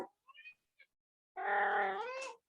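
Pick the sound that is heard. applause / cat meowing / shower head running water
cat meowing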